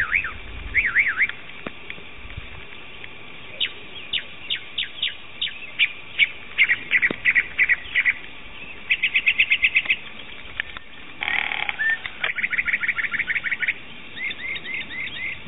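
Cartoon bird in a 3D animated film chirping in quick bursts of high, repeated tweets and trills, clear and close against quiet, continuing in short phrases with brief pauses and no talk.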